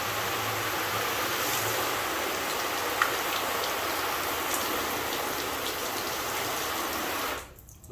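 Water from a rinse sprays over a car's waxed paint, a close, loud, steady hissing splash that continues evenly before tapering off at the end.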